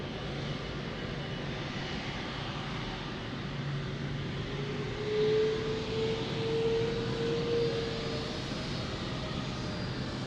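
Air Canada airliner in Star Alliance livery at Lisbon Airport, a steady broad engine roar holding throughout with a rising whine swelling in the middle, moderately distant with no voices.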